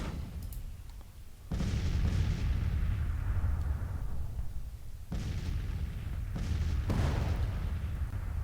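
Artillery cannon fire in the Civil War strategy game Grand Tactician: The Civil War, with repeated heavy booms at intervals over a continuous rumbling battle bed, loud and fairly close, no talking.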